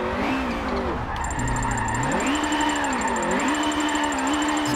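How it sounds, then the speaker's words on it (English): A light BMW Isetta microcar drifts in a high gear, its engine droning and rising and falling in pitch while the tires squeal continuously, loud and close. "I'm actually going to be drifting in the higher gear ranges."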